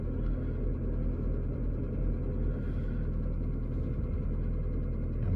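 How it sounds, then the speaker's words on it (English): Engine of a 2007 Toyota Prius with 278,000 miles, idling unstably, a low, steady rumbling drone with faint uneven pulsing throughout, heard close and without talk. "So I just took my foot off of the accelerator and it hasn't gone back to idle speed yet."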